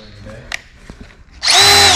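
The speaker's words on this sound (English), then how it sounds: "We're getting ready to drill some holes in this aluminum plate" A Ridgid power drill bites into an aluminum plate, starting with a loud, steady high-pitched whine partway through after a few quiet handling clicks and knocks.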